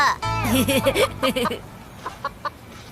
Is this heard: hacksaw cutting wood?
no